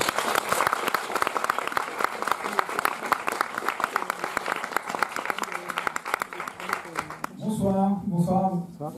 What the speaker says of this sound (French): Je vais vous demander d'applaudir Thomas Lutti qui nous fait plaisir d'être avec nous ce soir.